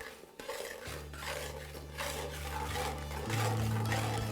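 Crushed mung dal stirred in a pan for moong dal halwa, a steady scraping, rasping rub of spoon against pan that continues throughout, with a low constant hum underneath and no talk.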